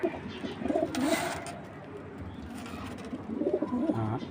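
Racing pigeons in a loft in Bangladesh give soft, low, repeated coos that recur in short phrases, close by, with faint background noise.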